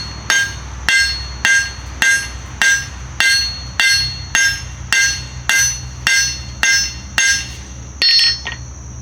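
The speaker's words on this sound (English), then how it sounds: "Then I'm a cross peen. And just flare it out." Hammer blows land on hot metal on an anvil, about eleven sharp, evenly spaced strikes from a cross peen hammer flaring out a piece of a forged coat rack, each ringing bright and close.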